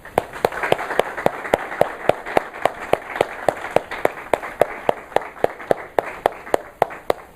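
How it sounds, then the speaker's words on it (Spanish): A church congregation applauding during a sermon, with one close, sharp hand clap repeating in an even, fast rhythm over softer scattered clapping from the room. "¿Podemos dar un aplauso?"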